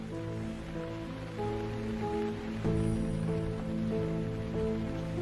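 Steady rain falls continuously under sustained background music, with no talking.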